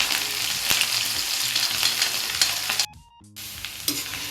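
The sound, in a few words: green chillies frying in hot oil with cumin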